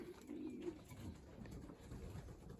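Soft, low cooing from pigeons, a few rounded murmurs close by against faint background hum.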